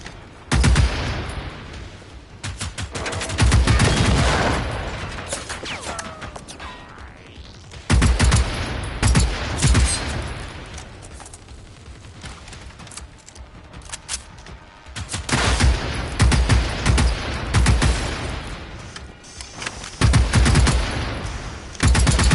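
Bursts of rapid automatic gunfire in the video game Generation Zero come in heavy waves separated by brief lulls, loud and close, with booming low impacts and no talking.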